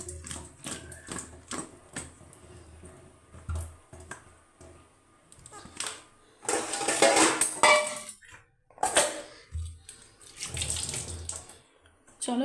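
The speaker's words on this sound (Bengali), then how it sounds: "আমার সঙ্গে কথা বলতে বলতে আমার সবজিটাও ধোয়া হয়ে গেল" Vegetables being washed under a running kitchen tap, with water gushing and splashing in bursts, interspersed with close clatter of produce and dishes in the sink.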